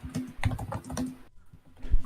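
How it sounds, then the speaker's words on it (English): Fingers type on a computer keyboard in quick, uneven bursts of close clicks, pausing briefly near the end before a few more keystrokes. "Don't mind me just typing something to my boyfriend."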